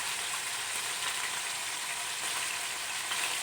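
Food fries in a pan for kushka, a steady, soft hiss and sizzle that runs evenly throughout with no talk.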